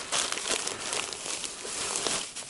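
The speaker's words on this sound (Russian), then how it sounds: "Туалетная бумага." Toilet paper roll crinkled and rustled by hand at a taiga campsite at night, a close, continuous papery crackle with small bursts of louder crunching.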